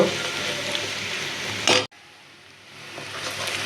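A spice paste sizzles as it fries in a pan for river fish bhuna. The steady frying runs loud at first, cuts out briefly, then returns quieter and continuous.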